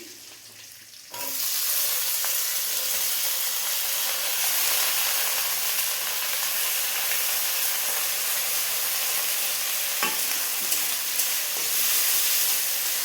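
Onion stalks sizzle and fry in a pan for potato fry, a steady loud hiss starting abruptly after a quiet second, with occasional stirring clicks and no talk.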